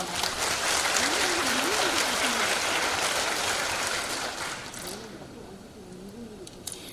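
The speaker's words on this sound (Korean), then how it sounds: "요럴 때 박수 한번 쳐드리세요." Audience applause at a corporate presentation event, a dense, steady wash of clapping that fills the room, with a voice calling out over it before the applause thins toward the end.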